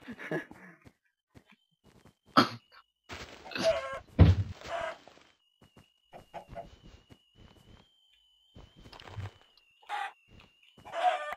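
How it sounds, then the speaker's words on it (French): Scattered clucks and short squawks of Minecraft chickens come in sparse bursts amid quiet gaps, with a faint steady tone running underneath. "il y a beaucoup de poules ici hein"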